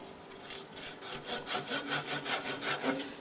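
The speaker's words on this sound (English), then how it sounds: "get my little cutoff saw and commence to saw" A small cutoff saw cuts through wood in a workshop near a lathe, giving a close, steady back-and-forth rasping rhythm of about a dozen quick strokes, with no voices.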